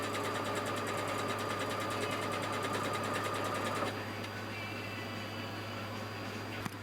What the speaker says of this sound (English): now I am sewing the boob part to the bodice part.